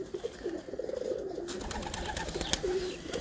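Racing pigeons coo in a repeated low, rounded pattern, close by and fairly clear, over faint background rustle and ambient noise.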